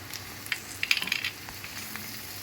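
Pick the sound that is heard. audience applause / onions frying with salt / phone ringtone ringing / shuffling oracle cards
onions frying with salt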